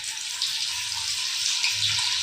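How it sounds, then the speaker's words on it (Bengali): Cauliflower pieces deep-fry in oil for Gobi Manchurian, giving a steady, close, bubbling hiss that swells slightly now and then, with no talking. "আমি একদমই ডিপ ফ্রাই করে নিচ্ছি"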